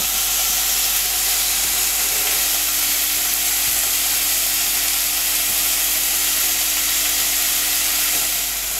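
Onions and salt frying in a pan for a North Indian thali, giving a steady, close sizzling hiss that runs unbroken throughout with no voices.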